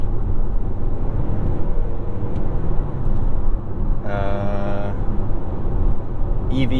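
A Ford Escape PHEV plug-in hybrid is floored in EV-only mode with the gas engine staying off, giving a steady road and cabin rumble with a brief higher whine partway through.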